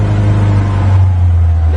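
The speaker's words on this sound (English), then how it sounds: "now that the car is started, we're letting it warm up." A Lada Kopeyka engine runs on the choke while warming up after a cold start, a loud, close, steady low-pitched drone with a slightly uneven, lumpy idle and no voices over it.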